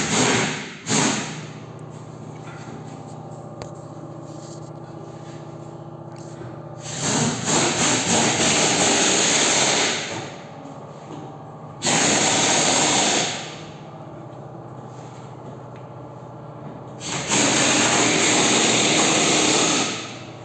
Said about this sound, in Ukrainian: силімблоки задніх верхніх розвальних речагів, бумерангів. Зараз ми їх будемо зрізати.